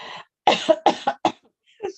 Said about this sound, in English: that's making me cough